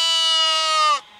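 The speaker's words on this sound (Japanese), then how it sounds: "ホリデールツ種類の羊です。" A Polypay-type lamb at the Ikaho Green Farm gives a single loud, close, sustained bleat lasting about a second, then cuts off abruptly.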